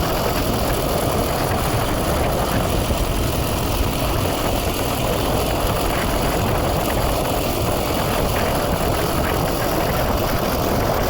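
A motorized sharing boat out on the river at a ghat in the evening, its engine droning steadily and loudly with a rough low rumble, constant from start to finish, with no voices.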